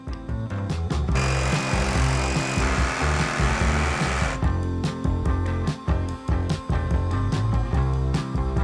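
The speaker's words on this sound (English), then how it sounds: "Step number one, we're gonna cut out all these studs and should be able to reuse them." During demolition of an 1857 rowhome, a power saw cuts out wall studs with a loud, steady whine for about three seconds, followed by repeated heavy knocks and wooden clatter.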